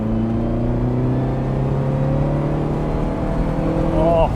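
A Ferrari 308 GTS engine revs loudly and close up, its rising harmonic tone building over a few seconds before a quick blip at the end.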